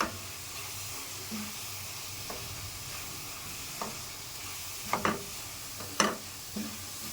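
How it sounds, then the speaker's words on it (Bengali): Coconut nadu mixture stirred in a hot pan, a quiet sizzle broken by sharp scrapes and clicks of the spoon, scattered irregularly and growing busier toward the end, close and soft with no talking. "এইভাবে নাড়তে থাকতে হবে, এক নাগাতে নাড়া বন্ধ দিতে হবে না"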